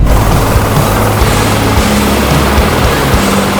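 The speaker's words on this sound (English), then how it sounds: "I'm just waiting for these helicopters to land" Loud, steady rotor roar and low thrumming of a nearby helicopter, a dense wash of noise filling the whole moment.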